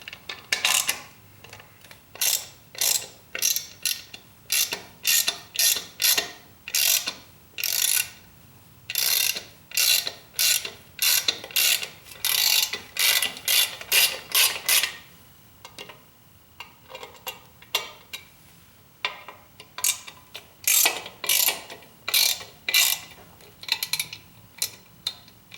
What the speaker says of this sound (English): taking apart these star hexes, or torque hex.